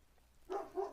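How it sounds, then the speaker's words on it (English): A dog gives a faint, brief double bark in the background of a quiet indoor room. "Sorry for my dog."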